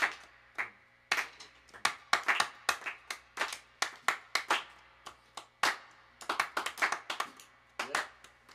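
Concert audience clapping along at a live guitar show: sharp, irregular claps from a few hands, spaced and sometimes bunched, ringing out clearly over a quiet background.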